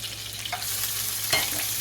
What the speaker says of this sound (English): We are having a fish fry